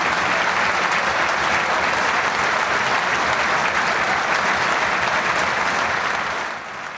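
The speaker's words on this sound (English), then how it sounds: "That was the round of applause 30 minutes into Bradford's game with Mansfield to mark 30 years of Ukraine independence." A football crowd at Bradford's match with Mansfield gives a sustained round of applause marking 30 years of Ukrainian independence, loud and unbroken, easing off only in the final moments.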